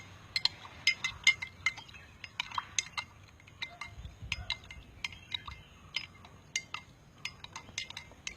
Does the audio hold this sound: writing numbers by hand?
no